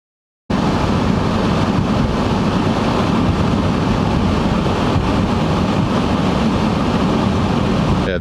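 A car drives on snowy roads through a heavy snowstorm, filling the cabin with a loud, steady roar of road and wind noise that starts abruptly and carries on unbroken, with no talking.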